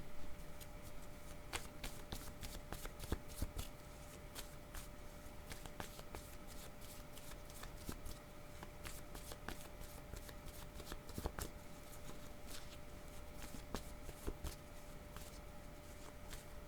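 A deck of cards is shuffled in a steady run of soft, rapid riffling clicks. It stays quiet and close, with a faint constant hum behind it and no speech.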